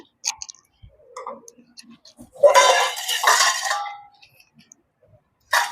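An egg goes into a bowl of creamed sugar and butter for Jaffna-style peanut cookies, with light clinks and taps against the bowl followed by a loud, wet, crackling splash up close, then scattered small clicks.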